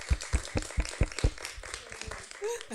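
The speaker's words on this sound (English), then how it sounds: "Let's give them a round of applause." Audience applause starts as a few loud, evenly spaced claps and trails off into scattered lighter clapping. Voices become audible toward the end.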